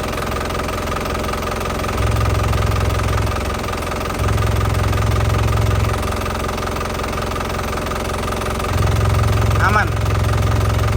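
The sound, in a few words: Isuzu Panther Grand Touring 2013 diesel engine running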